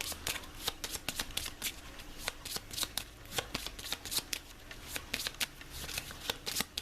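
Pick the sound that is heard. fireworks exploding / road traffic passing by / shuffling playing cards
shuffling playing cards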